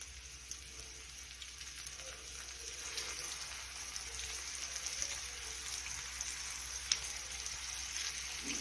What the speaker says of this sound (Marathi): आपण हे पीठ लावून घेतलेला मासा टाकून घेऊया तेलामध्ये